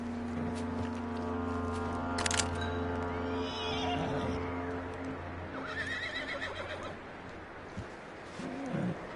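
A horse whinnies in Red Dead Redemption 2 amid background music and ambience, with a brief rustle of movement and hoof sounds toward the end.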